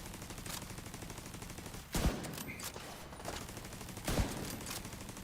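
Rapid gunfire from a sniper battle in the Warframe video game: a dense, continuous rattle of shots with two heavier, louder bursts standing out.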